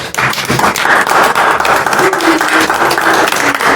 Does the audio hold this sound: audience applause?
yes